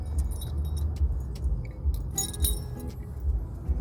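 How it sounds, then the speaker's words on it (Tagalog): A set of car keys jangles and clinks as it is handled and clipped at the waist beside a delivery vehicle in Canada, bright metallic rattling over a steady low rumble of nearby traffic. "Lagay natin yung susi sa baywang."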